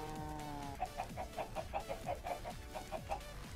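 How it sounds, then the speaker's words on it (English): Chickens on a Minecraft egg farm cluck in a quick, evenly spaced run of about a dozen blocky game clucks, close and clear with no talk over them. "Oh, my chicken egg farm."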